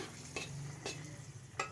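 Dried red chillies sizzle faintly in hot oil in a kadai, a low steady fry broken by a few sharp crackles and spits, with no talking.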